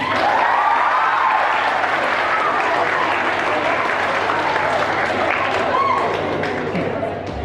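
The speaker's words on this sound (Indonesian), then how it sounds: "tepuk tangan dulu dong" Loud, dense applause fills the hall at a nutrition graduation ceremony, continuous clapping from a large audience with some crowd murmur, tapering slightly at the end.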